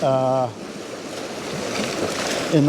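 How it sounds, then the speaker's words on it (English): Small waves washing in and out on a receding tide at a coastal landscape, a soft continuous wash and hiss of water, with a person talking briefly at the start and end. "we've got a slight amount of water that's just coming in and out"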